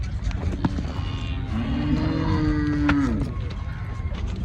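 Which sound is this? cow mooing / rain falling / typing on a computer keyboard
cow mooing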